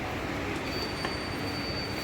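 Steady, loud rumble of an underground Chennai metro train pulling out of a tunnel station, continuous roar with faint high-pitched wheel squeal, no talk.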